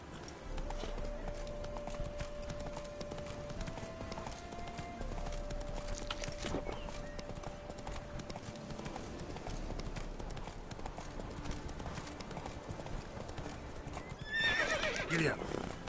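Roach, the horse in the game The Witcher 3, clip-clops along in a steady trot with continuous hoofbeats, ending in a brief whinny near the close.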